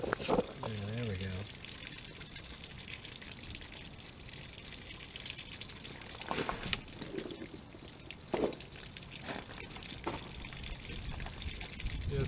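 Water flows out of an opened water line near a pressure regulator, a steady low pouring and trickling with a few drips and splashes, while a voice briefly speaks over it.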